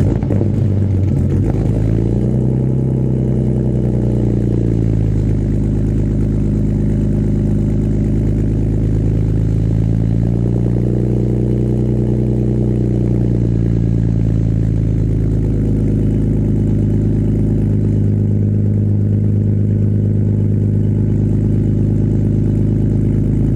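A BMW E46 cold-starts and idles loudly, the engine catching with a jolt and then holding a steady, deep drone with a brief rise in revs partway through.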